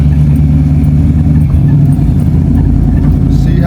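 An LS-swapped car with freshly replaced cylinder heads drives along, its engine a loud, steady, low rumble heard up close from start to finish.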